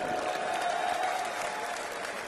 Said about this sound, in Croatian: Molim vas aplauz za ove borce!